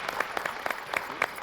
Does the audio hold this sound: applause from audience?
yes